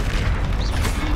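The Confringo blasting spell in Hogwarts Legacy lands as a loud, booming explosion. It gives a heavy, rumbling blast that fills the short moment.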